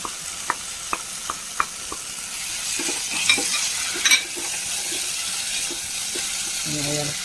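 Prawns tossed into a hot pan fry with a steady sizzle while a spoon scrapes and stirs, a few sharp clicks early on, all close and without talk.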